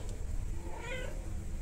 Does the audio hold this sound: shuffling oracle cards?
no